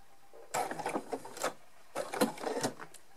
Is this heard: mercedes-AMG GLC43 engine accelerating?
no